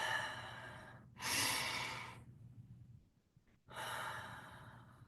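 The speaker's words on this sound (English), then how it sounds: "invite everyone to take a nice deep breath in" Two long, deep breaths drawn in and let out slowly during a guided settling at the start of a calm class, each a broad airy rush with a quiet pause between, close and soft with no talk.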